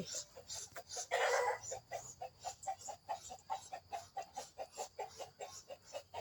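Chickens cluck in a quick, steady rhythm close by, with a brief louder crow-like call early on and faint farmyard background noise where ducks are also kept.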